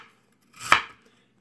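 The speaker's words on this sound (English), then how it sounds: "And then I will slice it thin." A knife cuts thinly through lotus root with a single short, crisp chop on a board, alone and fairly close.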